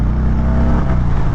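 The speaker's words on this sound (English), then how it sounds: "roll on the throttle to see what she puts out" A 2020 Harley-Davidson Softail Deluxe motorcycle pulls from low speed under a throttle roll-on, a steady, loud low-pitched engine drone with pulsing exhaust throb, heard close while riding.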